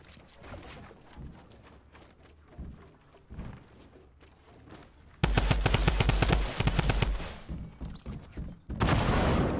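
Assault rifle gunfire in the Fortnite video game: scattered single shots and bursts at first, then loud, sustained rapid automatic fire in long volleys.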